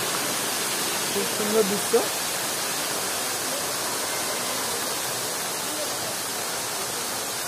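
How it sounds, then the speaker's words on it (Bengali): Steady broadband rush of water spilling down the Moti Jharna waterfall in hilly Jharkhand, heard from nearby as a constant roar with a person briefly speaking over it near the start. "এই দেখো জল পড়ছে"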